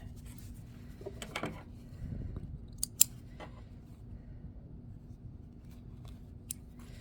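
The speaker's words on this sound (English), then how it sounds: "we're going to cut this stitch right here with our seam ripper" A seam ripper slices through a chain stitch on a pants hem, giving a few faint, close snips and scratchy cuts, with a sharper click around the middle, in a quiet room.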